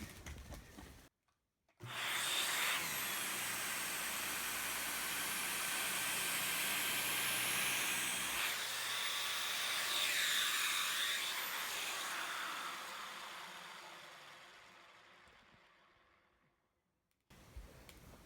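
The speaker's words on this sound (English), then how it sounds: "let me just show you how quickly and easily it's going to suck up my hair" A Dyson Ball Allergy upright vacuum cleaner switches on and runs steadily for about fifteen seconds with a loud, broadband whooshing roar, shifting in tone as it sucks up loose hair from the floor, then winds down and cuts off.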